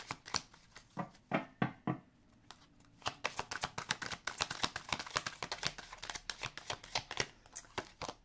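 Tarot-style cards are shuffled for a reading, with a quiet, close run of crisp riffling flicks and taps, a few separate snaps first and then a rapid steady patter with no talking.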